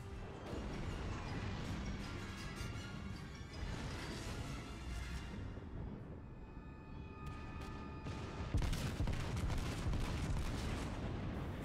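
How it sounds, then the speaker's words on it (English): Battleship guns fire in World of Warships, a dense, continuous roar of heavy booms and rumbling blasts filling the scene, with a brief thinner lull before another loud surge of gunfire. "our guy can finally fire his guns, and that last shell did some great damage"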